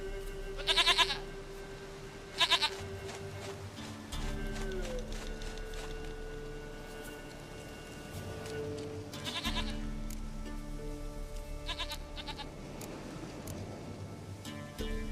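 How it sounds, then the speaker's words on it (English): Goat bleats in The Witcher 3 video game, rough wavering calls in short bursts near the start and middle, heard over game music and ambient sound. "Goat of mine, dearest, sweetest goat."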